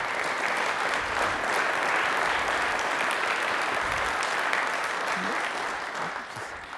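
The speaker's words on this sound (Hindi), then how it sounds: "तालियां इसमें जोरदार बनती हैं" Steady applause from a studio audience on a Rajasthani television discussion program, close and even for about six seconds before it thins out near the end, with a little speech mixed in.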